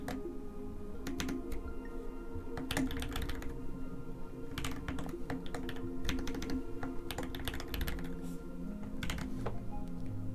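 Quick bursts of keystrokes on a computer keyboard as a new user's email address is entered, close and clear, with short pauses between runs of clicking.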